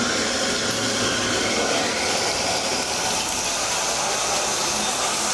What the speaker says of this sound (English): just run the water in the tubs and the showers